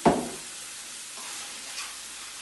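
Bolognese mince frying in a home kitchen pan, a steady soft sizzle after a brief clatter at the start, with a faint stir partway through; no talk.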